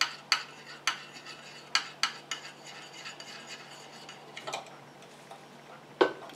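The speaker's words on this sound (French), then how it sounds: "Et je continue à mélanger comme ça jusqu'à ce que mon émulsion refroidisse et épaississe" Small utensil stirring a cosmetic cream emulsion in a tiny container, with sharp intermittent clicks and taps against the sides over a faint steady hum, fairly quiet and close.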